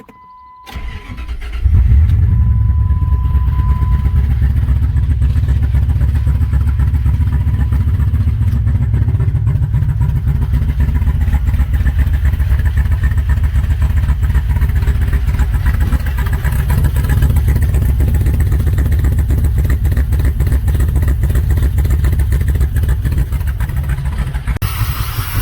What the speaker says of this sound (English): the customer complaint on this one is a check engine light and a rough running engine